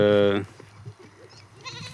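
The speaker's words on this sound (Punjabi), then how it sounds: "ਬੱਕਰੀ ਵਿੱਚ ਆ ਗਈ ਛੋਟੀ ਜੀ" A small goat strays onto a village cricket pitch and gives one loud, close bleat at the start, followed by people talking over a quiet outdoor background.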